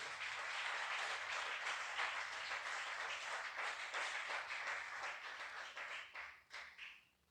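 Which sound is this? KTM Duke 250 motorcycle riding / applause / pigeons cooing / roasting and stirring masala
applause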